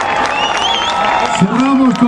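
Concert audience at a Colombian Pacific music festival applauds and cheers in a dense, steady wash of clapping and crowd noise, with whistles and a raised voice rising over it near the end.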